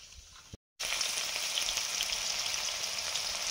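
Whole garam masala sizzles in hot oil during cooking of a soya bean dish. A steady, close crackle fills the clip after a brief dropout near the start, with no talking.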